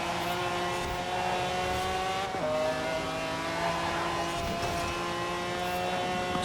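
Race cars in Forza Horizon 4, including a Lamborghini Aventador and a Lotus Esprit, roar steadily with loud engine drone that drops in pitch at gear shifts, the tones climbing again as the cars accelerate through the race.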